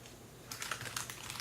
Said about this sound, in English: I'm like messing with the keyboard as I'm doing this